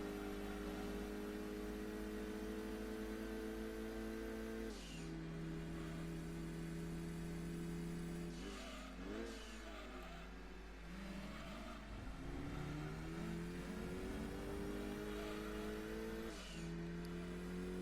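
A black Mitsubishi Evo 6 races at Laguna Seca in Gran Turismo 2, its engine revving and whining through gear changes with shifting pitch, steady and fairly faint, with no talk.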